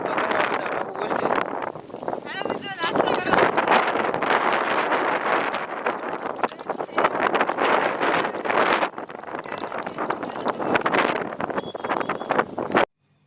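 Strong wind buffets the microphone outdoors at a scenic spot near Melakdi on the Bhandariya road in Bhavnagar, a continuous loud rumbling roar with gusty surges that persists throughout before cutting off abruptly at the end.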